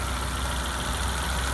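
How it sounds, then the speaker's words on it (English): A 2001 Infiniti G20 engine idles with new belts and a timing chain, a steady, even hum and whir heard up close with no voices. "Here's the engine while it's running."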